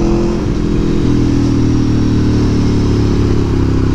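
A 2017 Aprilia Tuono V4 1100RR revs hard and steadily, its loud, dense engine roar rising and holding throughout with no talking.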